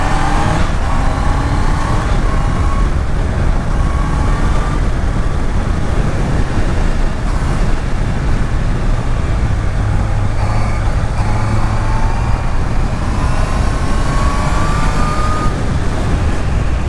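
A 2026 Honda CBR 650R inline-four motorcycle engine droning steadily while riding in fifth gear, with constant loud wind and road roar and no talk.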